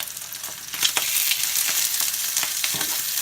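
Sausage links sizzle and fry in a pan, a close, steady crackling hiss with a few soft stirring taps and no talking.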